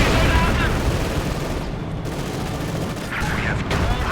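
Heavy gunfire rumbles through a Company of Heroes 2 battle, a dense continuous barrage of shots and booms with a caster talking over it.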